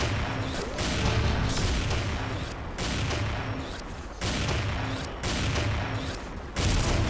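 Sniper rifle fire from the shooter game XSHOT, heavy broadband blasts repeating at roughly one-to-two-second intervals, loud and close, with no talk over them.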